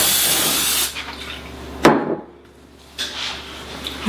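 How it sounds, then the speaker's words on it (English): Cooking spray hisses into a bowl for bread dough in a home kitchen, a close, loud burst that cuts off, followed by a clunk and a short second spritz. "I'm going to just spray it with a little pan here"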